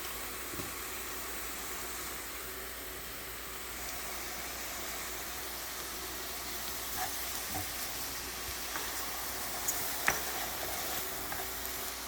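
Steady, loud sizzling of sausage and mushrooms frying in a pan, a continuous hiss with a few small pops and clicks.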